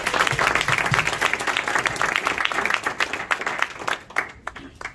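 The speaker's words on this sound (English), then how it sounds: "Please give him a round of applause." Audience applause for the speaker Chris Edward at a law and sovereignty presentation, a dense steady clapping that tapers off toward the end with a few scattered claps.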